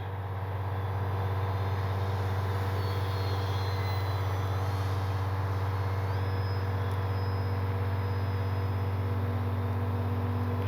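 A steady, loud drone with a constant buzzing whine from an E-flite Timber SE RC model airplane flying nearby, running continuously with no voices.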